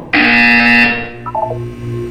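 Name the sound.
buzzer sound in the video game Portal 2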